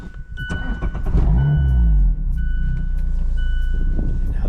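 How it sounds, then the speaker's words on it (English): Modified turbocharged 2016 Mazda Miata heard from inside the cabin while driving, a deep, loud engine and exhaust drone that surges, then settles into a steady rumble, with a repeating chime sounding over it. "Here's the interior of a 2016 Mazda Miata, and here's how she sounds."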